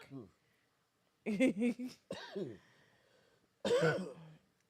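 A few short, harsh coughs and throat clearing up close after a drink goes down the wrong pipe, with a brief spoken voice between them.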